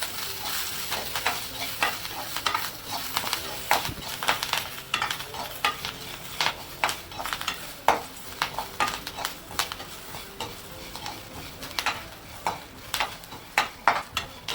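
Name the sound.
coconut and curry leaves frying in a little oil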